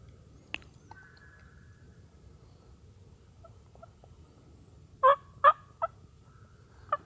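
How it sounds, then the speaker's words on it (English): Wild turkeys out in the woods during a spring turkey hunt, with a sharp call early on, then a quick cluster of three or four gobbling bursts and one more, all faint and distant over quiet background. "Gotta be at least a dozen turkeys out there."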